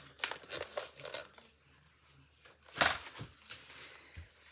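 Crinkly sheets of silver foil for a papercraft fold card rustle and crackle while being handled, in several close bursts with quiet gaps between them and a sharp crunch near the middle.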